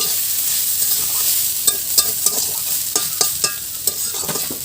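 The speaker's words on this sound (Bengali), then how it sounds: "এখন আমরা ঢাকনাটা তুলে নেড়ে নেব" Mustard greens frying in a pan sizzle steadily while a utensil stirs them, giving a series of sharp scraping knocks over the continuous hiss, close and clear with no voices.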